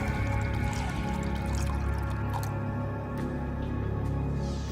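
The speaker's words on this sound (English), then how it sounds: "The magician pours the water into the mug." Water is poured into a mug in a magic trick, a steady close liquid fill with faint dripping over a constant background hum.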